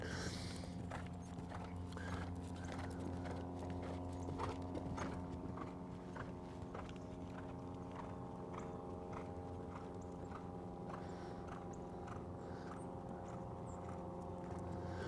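A horse's hooves beat in a steady, even clip-clop rhythm throughout jump training, sounding fairly close and clear, with no talking.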